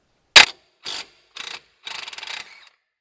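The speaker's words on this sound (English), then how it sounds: "So I'm going to hold the Torx screw with a ratchet while removing the nut with the 15mm socket." A ratchet with a 15mm socket loosens a nut on a Ford Focus lower control arm, heard as a sharp metallic snap followed by three short bursts of clicking, close and clear with no talk.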